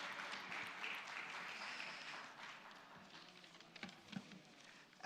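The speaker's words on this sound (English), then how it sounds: "Can we have a big round of applause for Mr. Chetan Bhagat, please?" Sustained clapping from a conference audience at an Institute of Chartered Accountants of India event, steady and moderately distant, thinning slightly toward the end.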